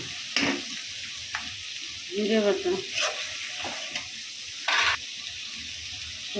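Garlic paste sizzles and spits as it hits the oil in a pan for a bottle gourd greens dish. Bursts of frying crackle rise and fall with a few sharp splashes and clatters, with no voices.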